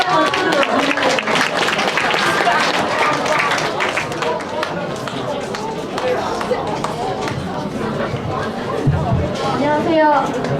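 Student audience applauding in a school chapel as a student speaker is introduced. A dense, steady round of clapping fills the hall for about ten seconds, with crowd voices and chatter mixed in beneath it.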